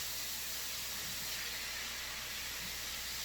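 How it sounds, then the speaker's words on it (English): Vegetables sizzling in a pan for a veggie stir fry, a steady broad hiss that holds evenly throughout at a moderate distance, with no talking. "You hear that sizzle? That's the fry part."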